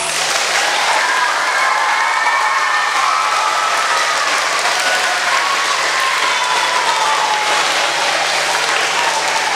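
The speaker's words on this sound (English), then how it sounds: "If we could give him a huge round of applause." An audience at an elementary school ceremony for a National Blue Ribbon award applauds loudly and continuously, a dense wash of clapping from start to finish.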